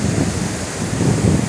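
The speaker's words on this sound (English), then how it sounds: "come and walk the beach, stare at the waves" Ocean surf rolling onto a beach in Gambia, a steady broadband wash of breaking waves with low rumble and light wind buffeting, continuous and fairly loud with no voices.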